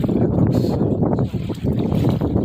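Strong wind roars over open sea near Kapota Island while out on a boat fishing, a loud, steady gusting rush buffeting the microphone throughout.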